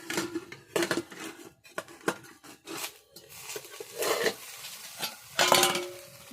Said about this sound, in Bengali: এবার ঢাকনাটি খুলে দেখব পিঠেটা হয়েছে কিনা